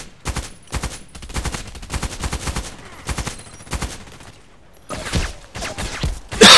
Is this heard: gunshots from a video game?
yes